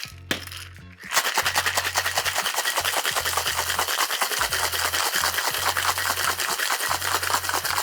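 Ice rattles hard inside a cocktail shaker as an espresso martini is shaken, a loud, steady rapid rhythm after a brief start, close and alone.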